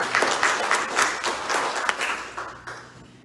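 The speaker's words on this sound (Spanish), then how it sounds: "Y un aplauso para Dios" A church congregation applauds during a Thanksgiving service, a dense burst of clapping that swells and then tapers off over a few seconds.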